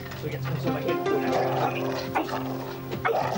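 A dog barks and yips in short bursts alongside a voice talking close by.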